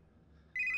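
A telephone rings in a comedic podcast skit: after near silence, a bright, steady electronic ring cuts in abruptly and stays loud and close to the end, with no voices.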